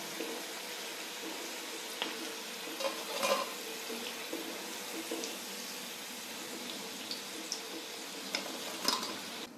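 Cauliflower Manchurian pieces frying in hot oil give a steady, soft sizzle, with a few louder clinks and scrapes as the pieces are lifted out.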